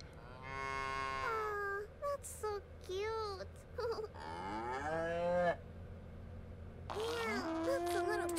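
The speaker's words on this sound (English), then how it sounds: "There's a bunch of cows on the field." Cows moo on a field in the video game Little Misfortune, a series of drawn-out lowing calls from several animals, some overlapping, heard loud and close with no talk over them.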